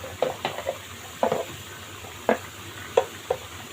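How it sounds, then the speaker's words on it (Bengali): A spoon scrapes and stirs through an eggplant and dried loitta fish curry as fried cumin powder goes in, with a handful of short, sharp clinks and scrapes against the pot over a steady low simmer. "এখন আমি এর ভিতরে ভাজা জিরের গুঁড়োটা দিয়ে দিব।"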